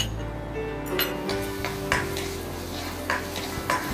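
Garlic sizzles gently in hot oil while a utensil stirs and scrapes the pan in scattered light clicks, with no voices.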